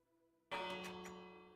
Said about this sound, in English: that means that the bell's ringing.